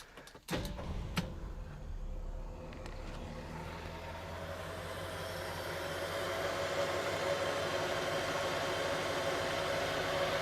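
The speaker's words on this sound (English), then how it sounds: "We'll do the famous reach-in start" The engine of a 1968 Ford Meteor Montcalm cranks and catches with a sharp burst, then settles into a smooth, quiet, steady idle that goes on close by with no talk.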